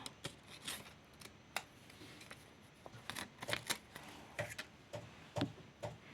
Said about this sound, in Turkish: Makasla küçük bir parça kesiyorum.